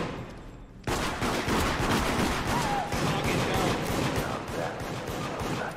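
Gunshots in the video game Deceit start abruptly after a short quiet lead-in, then a rapid run of loud, close shots continues steadily for about five seconds.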